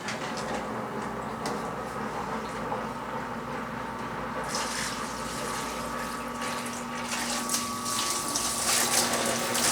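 Flood coolant pump on a milling machine running steadily, liquid gushing and splashing through a half-inch hose with a constant hum, the water rush growing louder partway through.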